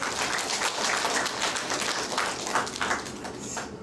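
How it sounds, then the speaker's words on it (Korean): A church congregation claps together during a Sunday sermon, a steady, fairly loud wash of many hands that holds for a few seconds before thinning slightly at the end. "박수 좀 쳐주세요"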